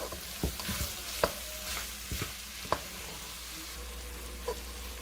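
Shrimp pineapple fried rice stirred in a pan, with scattered spoon scrapes and knocks against the metal over a faint, steady sizzle, several sharper clinks standing out, no voices.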